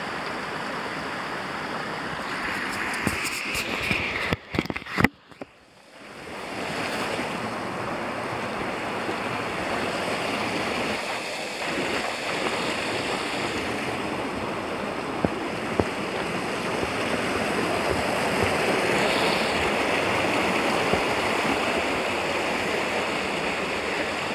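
The Deique river rushes past old watermills in a continuous loud wash of flowing water. A few sharp knocks briefly interrupt it early on, then the steady rush returns.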